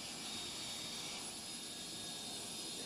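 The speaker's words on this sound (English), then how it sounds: "You can kind of hear the power too in the jet engine." Distant F-22 fighter jet rolling for takeoff, its engine giving a steady, broad roar with a high whine layered on top, continuous and fairly faint throughout, with no talking.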